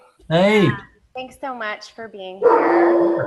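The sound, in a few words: dog barking at thunder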